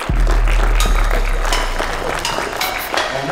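An audience applauds at a 2021 corporate keynote as speaker Régis Samuel is welcomed to the stage, a dense wash of clapping over a low hum that fades slightly across the few seconds.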